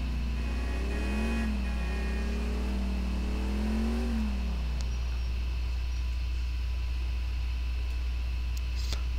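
In GTA IV, a car engine hums over a constant low drone, its pitch rising and falling as the vehicle drives, then fading away and leaving a steady background hiss.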